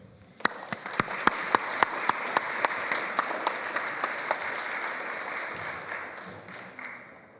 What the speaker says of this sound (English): So just a big round of applause to everyone, and thank you so much.